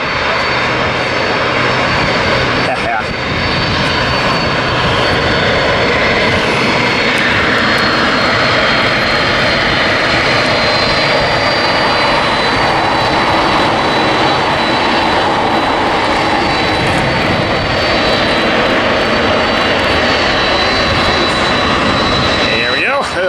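A Delta airliner in pink ribbon livery passes overhead with a loud, continuous jet engine roar that fills the whole stretch, while voices talk faintly beneath it.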